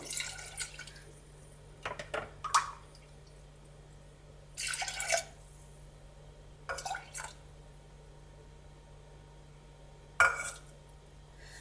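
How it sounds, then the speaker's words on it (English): Water poured from a container into a pot of green split pea curry with coconut cream, heard as several separate splashing pours and drips between quiet pauses, close and fairly soft. "I'm just gonna go get some water and add to this."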